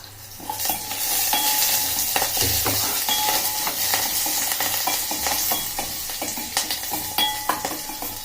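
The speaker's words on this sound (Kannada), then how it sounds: "ಹಸಿಮೆಣಸು ಹಾಕಿ ಆಮೇಲೆ ಒಂದು ಸ್ವಲ್ಪ ಕರಿಬೇವು ಕರಿಬೇವನ್ನ ಮುರಿದಾಕ್ಬೇಕು" Green chillies and curry leaves frying in oil in a pan, a continuous bright sizzle close up, broken by repeated scraping stirs and light clinks of a utensil.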